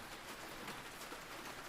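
Soft, steady rain falling, a faint, even hiss with no distinct drops standing out and no voices.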